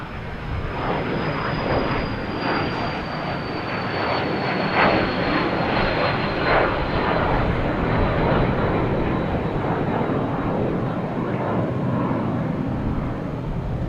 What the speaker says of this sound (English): a Cessna Citation Ultra taking off